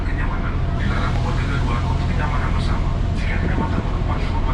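Interior of a KRL commuter train in Jakarta, a continuous loud rumble and rolling rail noise with people talking over it.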